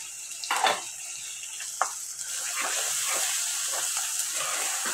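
Onion paste with turmeric, chili and coriander powder frying in a pan for egg korma, a soft continuous sizzle broken by a few sharp spoon scrapes and knocks early on, close and fairly quiet.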